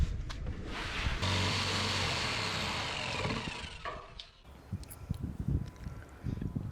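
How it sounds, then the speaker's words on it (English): A jigsaw cuts through a butcher block countertop during a Sprinter van build, a loud, steady buzzing saw run that stops partway through, followed by quieter knocks and handling sounds. "I could just get the jigsaw and just cut that right off"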